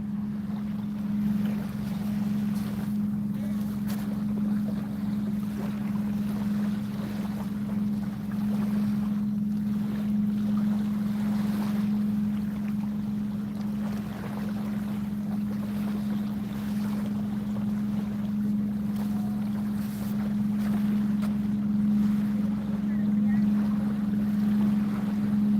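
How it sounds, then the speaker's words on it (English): A loud motorboat passing on the sea makes a steady, deep engine drone that holds throughout, with wind noise buffeting the microphone. "There's a boat coming that is super loud."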